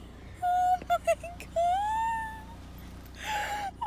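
Tiny newborn kittens meowing, a series of thin high cries: several short mews followed by a longer drawn-out one, close and fairly soft, with a brief rustle near the end.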